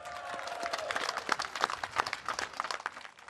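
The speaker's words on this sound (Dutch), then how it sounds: "Applaus!" Audience applause at an outdoor talent show in the Netherlands: a crowd claps in dense, irregular bursts that swell and then thin out near the end.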